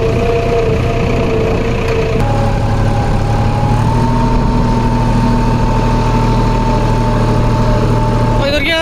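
A Farmtrac tractor engine runs steadily while pulling a boat in reverse, its low drone and harmonic tones shifting once early on and holding close and loud throughout.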